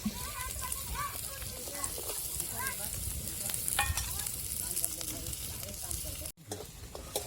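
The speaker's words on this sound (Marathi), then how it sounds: "चला तर आता मी कांदा परतून घेते व्यवस्थित" Onion sautéing in hot oil in a kadhai, a steady close sizzle and crackle with scraping stirs, while someone talks over it throughout.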